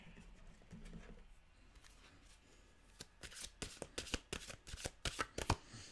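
Mantra cards being shuffled by hand: quiet fumbling at first, then a quick run of crisp riffling flutters growing louder toward the end, close and alone.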